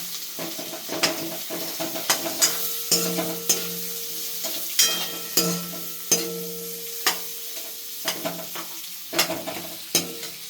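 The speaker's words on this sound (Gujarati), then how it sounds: "બટેટા નાખી દઈશું આપણે, સારી રીતે હલાવી લઈશું" Potatoes and curry leaves stirred in a pan for sabudana khichdi, a spoon scraping the pan in repeated sharp strokes over a steady low sizzle, close and clear with no talk.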